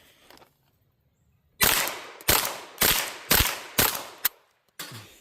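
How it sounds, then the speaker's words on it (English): A Ruger 22 Charger pistol fires .22LR rounds in a quick string of about six sharp, loud cracks, each with a short decay, followed by a fainter shot near the end. "There we go, finally 4 or 5 shots in a row."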